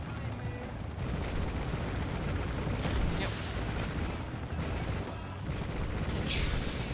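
Gunfire and missile blasts from the video game Rocketbirds: Hardboiled Chicken make a dense, continuous rumble of rapid shots and booms that runs steadily throughout at full level.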